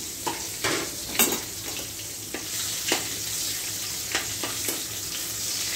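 Garlic and dried red chillies sizzle in hot oil in a pan, a soft steady crackle broken by several sharp bursts and stirring clatters, close and fairly quiet with no talk.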